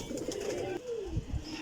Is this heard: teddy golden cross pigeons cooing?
yes